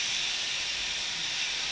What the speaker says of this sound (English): when you hear that sizzle, that usually means the pan is nice and hot